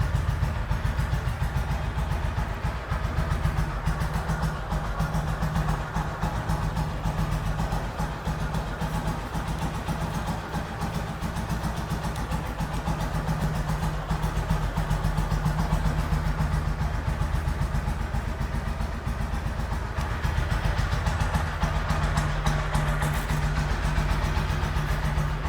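A single-cylinder motorcycle engine idles steadily and loudly up close with a continuous low thrum, holding an even note from start to end with no talk.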